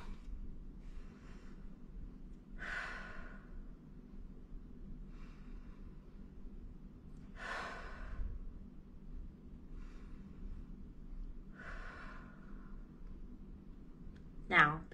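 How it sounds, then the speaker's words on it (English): Slow, soft breaths drawn in calm relaxation, three gentle breath bursts spaced several seconds apart, quiet and close over a low steady background hum. "take 3 soft and slow breaths"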